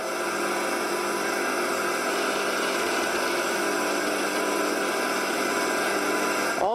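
A homemade wooden wood lathe driven by a 1500 RPM motor runs at its lowest speed of almost 1000 RPM, giving a steady, continuous whirring hum with a dense, rough mechanical drone throughout, close and fairly loud, with no talking.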